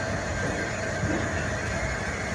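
A long-distance northbound train passes on a foggy day between Tiruchirappalli and Vriddhachalam in Tamil Nadu, giving a steady, dense rumble of rolling wheels and cars that holds even and loud throughout, with no voices.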